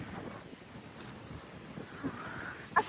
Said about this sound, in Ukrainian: вітер, якщо чесно, дуже-дуже сьогодні сильний